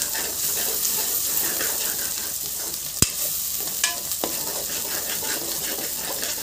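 Ginger garlic paste frying and being stirred into a masala in a pan, a steady close sizzle with scraping stir strokes and a sharp clink of utensil on metal partway through.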